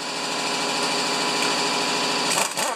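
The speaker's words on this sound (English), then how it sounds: "I gotta back that bolt out a bit." A rusted-on mower blade adaptor bolt being backed out with a power tool, a steady high-pitched motorized whine running loud and continuous, then breaking into a few ragged bursts near the end.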